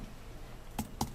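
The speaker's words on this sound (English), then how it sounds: "I'm already typing on the keyboard." Three quick clusters of keystrokes on a computer keyboard, sharp and close, over a faint room hiss with no talking.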